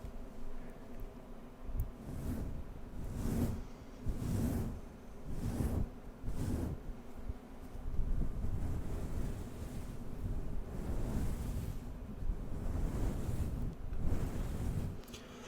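Fingertips rub slowly across a fluffy microphone cover, making soft, close, rhythmic whooshing swells that blend into a steady muffled rumble like wind, with no talking.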